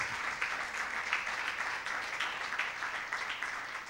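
A church congregation gathered for an evening service applauding together, a steady wash of many hands clapping at moderate distance, continuous and fairly quiet with no voices over it.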